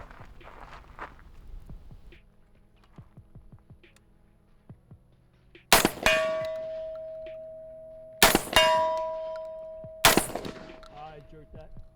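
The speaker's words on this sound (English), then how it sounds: "shooting slugs at about 50, 55 meters on C-zone steel" 12 gauge slugs from a 5-inch barrel Gen-12 shotgun strike C-zone steel at about 50 to 55 meters: three loud blasts, each followed by a clang and a lingering metallic ring, with quiet shuffling and footsteps between shots.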